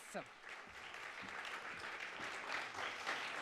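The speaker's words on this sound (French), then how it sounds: "merci beaucoup pour ces applaudissements" An audience applauds after a talk on the deep sea, steady, soft clapping that swells slightly toward the end, with a voice briefly heard at the start.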